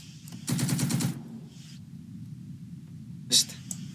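Machine-gun fire in a war strategy video game: a rapid half-second burst of shots, then a quieter pause and a single sharper crack near the end.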